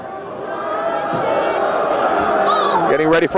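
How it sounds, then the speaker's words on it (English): A crowd at a Mendham versus Delbarton high school basketball county final roars and cheers continuously before tip-off, with a dense wash of voices filling the gym. "Crowd getting rambunctious here, a little slow start."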